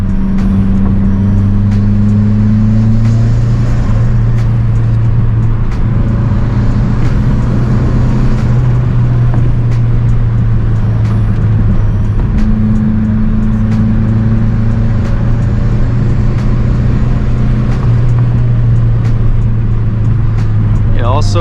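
Stage 2 Mazdaspeed 3 turbo engine heard from inside while driving, a loud steady drone with shifting tones and gear changes across the whole stretch, no talking.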